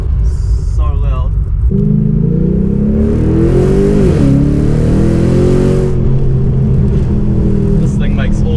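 A 430 kW VF2 Redline car's loud engine revs and climbs through gears while driving, deep rumbling tone rising and falling close by, with brief voice-like noises at the start and end.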